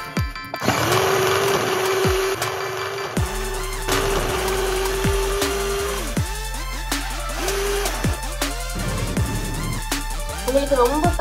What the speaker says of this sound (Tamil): உங்களுக்கு ரொம்ப காயில பொரிய வேணும்ட்டா 4 செகண்ட் சாப் பண்ணலாம்.